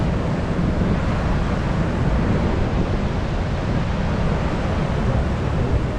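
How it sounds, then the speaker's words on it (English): Hurricane surf pounding a Florida beach lined with collapsed walls, with strong wind roaring over it; a loud, continuous wash of crashing waves and wind buffeting close by, no talking. "Waves are still vicious."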